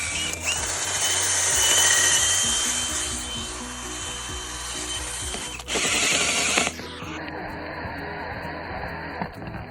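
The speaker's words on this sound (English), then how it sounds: "I'll step it up with a larger auger bit just to get these holes watered out good to receive the new pins" Large auger bit drilling holes in a wooden gate, a loud continuous whirring grind that shifts partway through, then winds down to a quieter spinning hum near the end.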